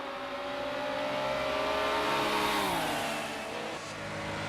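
A Nissan 300ZX racing in Project Cars 2 historic IMSA GTO racing, its engine revving up with a rising then falling harmonic whine as it shifts, loud and close throughout.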